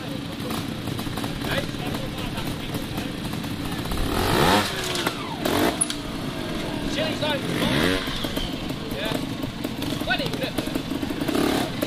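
A trials motorcycle picks its way through a rough section with a hole at an East of England trial, its engine blipping and revving in short bursts, fairly close, while a commentator talks over it.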